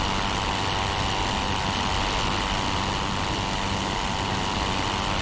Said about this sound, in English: I thought I heard another engine there.